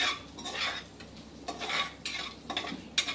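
Garlic sautés in a pan for white sauce pasta, with gentle sizzling broken by repeated spoon-against-pan stirring scrapes in uneven bursts, close and fairly quiet.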